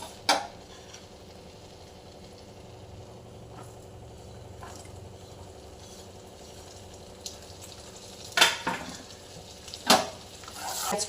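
Garlic and chopped ginger frying in oil with cinnamon, cardamom, cloves and black pepper give a soft, even sizzle, with a few sharp clanks of a utensil against the pan near the start and end.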